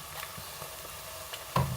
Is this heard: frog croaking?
no